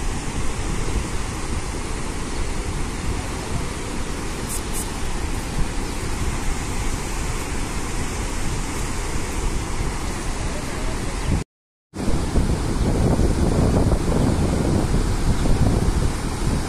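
Shivanasamudra waterfall near Bangalore roars as a steady, dense wash of rushing water, mixed with wind buffeting the microphone; the sound cuts out for a split second and then returns just as full.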